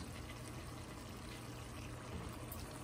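Canola oil streams steadily into a pan for frying eggplant, a faint continuous pouring hiss with no talk.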